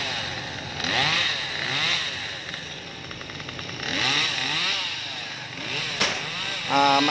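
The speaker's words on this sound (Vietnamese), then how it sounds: "Anh kéo cái máy cưa mini lên anh cưa đó nha các bạn" A small mini chainsaw revs close by, its engine whining up and down in repeated bursts as it cuts tree branches.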